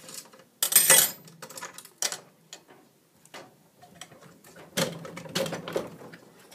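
Bolts are undone by hand on a Bell Fruit Scorpion 4 fruit machine reel, giving a series of close, sharp metallic clicks and ticks in irregular bursts with quiet gaps between them.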